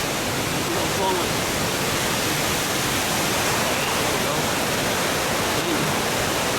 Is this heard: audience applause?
no